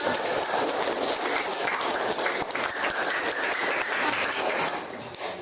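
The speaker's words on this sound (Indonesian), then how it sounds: "Baik, kita beri tepuk tangan kepada kelompok" Dense clapping fills a classroom as students applaud a group, steady and fairly close, continuing for several seconds before tapering slightly.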